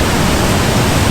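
Loud, dense roar of a waterfall at night, an unbroken wash of rushing water close by with no gaps or other sounds.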